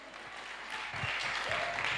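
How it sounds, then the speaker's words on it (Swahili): Congregation at a church meeting in Nairobi, Kenya, claps for Jesus, a faint, distant patter of many hands that builds slightly over two seconds. "Ungepiga makofi kwa Bwana Yesu"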